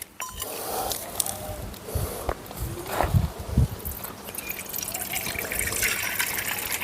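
Homemade liquid compost, thin and watery, is poured into a small bowl on a farm, making uneven splashing and trickling with a few louder gushes, along with some handling noise nearby.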